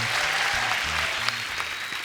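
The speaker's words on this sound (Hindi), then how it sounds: "जोरदार तालियां।" A studio audience on a comedy talk show bursts into loud, dense applause that holds steady throughout.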